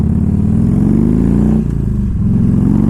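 Harley-Davidson touring motorcycle engine idling close by, a loud, steady, lumpy throb with a brief dip and recovery partway through, no voices.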